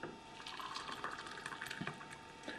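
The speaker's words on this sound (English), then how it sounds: "Pour the tea." Tea poured from a pot into a cup in a kitchen, a continuous soft trickle and splash of liquid, quiet and close, running steadily throughout with no talking.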